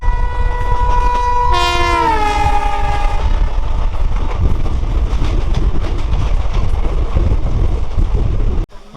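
A passenger train on the Katwa–Azimganj line near Jhamatpur Baharan rumbles loudly and continuously, heard from onboard, as its horn sounds for about two seconds and sags in pitch.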